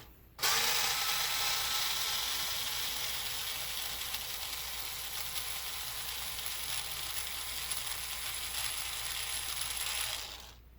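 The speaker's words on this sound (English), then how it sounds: "I'm going to pull the center brace out first." A power driver unscrews the center brace on an Arrma Felony 6S RC car during a center differential service, making one continuous close whirring, ratcheting drone that starts abruptly, runs about ten seconds and stops.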